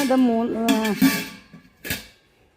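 Steel vessels are handled and knocked together at close range, giving a few bright metallic clinks and taps, the loudest near the middle and the end, while a voice speaks over the first part.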